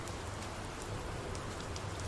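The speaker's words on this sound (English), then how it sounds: "there's rain hitting and affecting everything" Rain falls across a video game map, a dense, even hiss of drops striking wood and puddles with occasional sharper drips, continuous and fairly soft with no voices.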